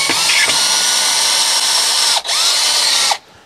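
A power drill backs screws out of the wooden back of a drying rack being turned into a polytunnel shelf. It whirs loudly and steadily with a brief pause in the middle, then stops abruptly near the end.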